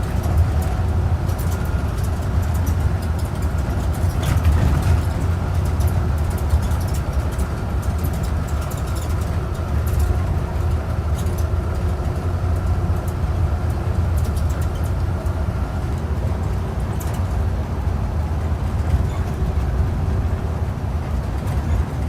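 A Damri intercity bus cruising on a toll road near Solo, its steady engine drone and road rumble loud and continuous throughout, with constant wind and tire noise.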